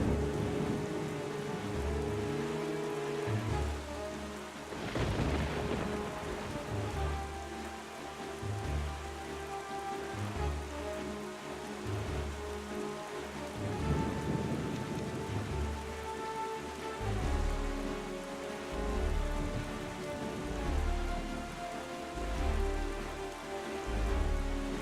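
Stormy sea in the Wind Waker HD video game: steady heavy rain pattering over low rolling waves, with a rumble of thunder breaking through, all under a dense continuous wash of sound with no voices.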